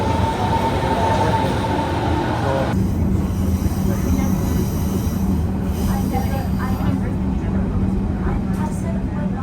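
Steady low rumble of a train running on rails from Berlin toward Sachsenhausen, continuous and loud throughout, with a brief higher tone fading early on and faint voices mixed in.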